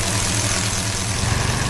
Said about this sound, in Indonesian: Truk kuning sedang bekerja keras menggali tanah gelap di tengah kebun yang ceria.